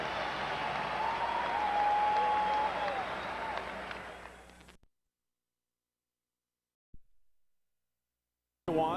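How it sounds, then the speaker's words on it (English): Dense, loud crowd roar in a Philadelphia 76ers basketball arena during a timeout in a 1986 playoff game against the Washington Bullets, sustained for several seconds before cutting to silence, then returning briefly at the end. "listen to this Philadelphia crowd"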